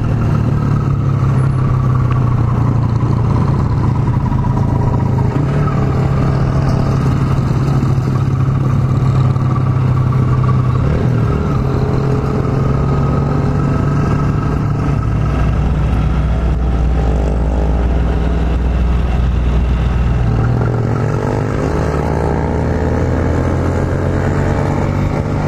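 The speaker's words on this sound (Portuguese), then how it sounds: "Caminhão rodando já, ó. Tão indo pegar a pista, ó." A truck rolls along a road in Campinas during a truckers' strike, its low steady engine rumble and road noise continuous and moderately close throughout, with no talk.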